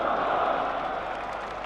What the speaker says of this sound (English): The crowd really getting behind Alex Tudor and Nasser Hussain